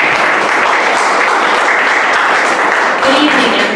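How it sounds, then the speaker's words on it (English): Sustained, loud audience clapping at a mental health awareness event for a certificate recipient, a thick continuous patter of many hands with a voice briefly audible underneath toward the end. "once again, round of applause."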